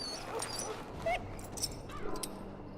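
A dog in the video game Dragon Age Origins whimpering, with several thin, high whines and soft yips rising over a low background hum.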